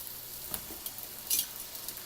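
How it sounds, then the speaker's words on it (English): Pork frying in oil for okonomiyaki gives a soft, steady sizzle with small crackles and pops, quiet and close, with no talk. "once they're coated in the oil and they're cooked a little bit to the point where they start sizzling"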